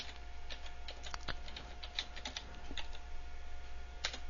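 Rapid typing on a computer keyboard while a file name is entered, a close, light patter of irregular key clicks with no talking.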